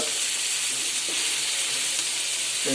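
Koi fish deep frying in hot oil gives off a steady, close, broadband sizzle and hiss that carries unbroken through the whole stretch, with a few faint clicks underneath.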